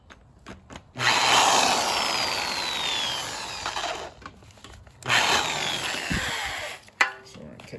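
A power drill boring out an engine bolt, two sustained whining runs with gritty metal grinding, the first several seconds long and the second shorter, separated by brief pauses and a final sharp clank.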